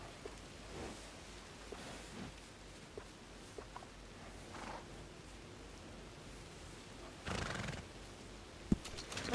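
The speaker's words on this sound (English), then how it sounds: "That's a nice horse." Appaloosa horse neighing and hooves clip-clopping in the Red Dead Redemption 2 video game, at a stable shop in Saint Denis, with a few soft scattered hoof taps and then a louder whinny near the end over a quiet background.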